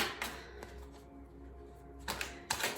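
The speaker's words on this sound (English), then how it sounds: "I'm gonna give it a good shuffle" Tarot cards are shuffled quietly up close in a few brief, soft papery bursts, with short pauses between them.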